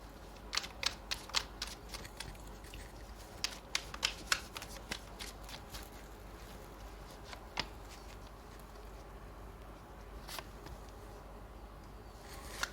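Tarot cards are shuffled and drawn close by, with quick papery riffles and flicks clustered early, then sparser soft snaps over a quiet background.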